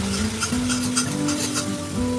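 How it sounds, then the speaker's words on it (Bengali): Chilli, coriander and cumin powders are sautéed in a pan while cooking raw jackfruit kofta. A close, constant sizzle of frying runs throughout, broken by repeated scraping strokes of stirring. "এবার এগুলো দিয়ে কষতে থাকবো।"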